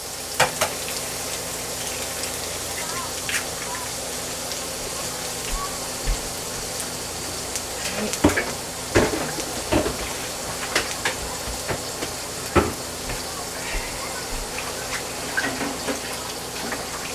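Eggs frying in a home kitchen pan for a breakfast with masa harina corn tortillas and nopales: a steady crackling sizzle throughout, with sharper pops and spatters clustering in the latter half, no talking.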